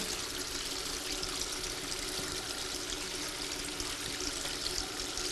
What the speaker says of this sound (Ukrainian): Щоразу перед маніпуляціями медсестра Лілія та її колеги миють руки не менше 10 хвилин